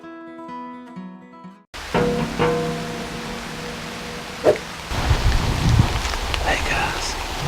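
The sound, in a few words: rain falling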